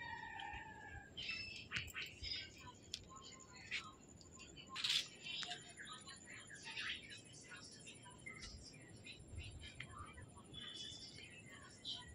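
Faint, scattered bird chirps and tweets in the distance after rain in a Konkan village, over a quiet outdoor hush, coming in short irregular bursts.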